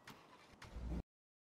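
A car engine cranks briefly and catches in a GTA V NoPixel roleplay scene, growing louder with a rising rumble before cutting off abruptly into silence.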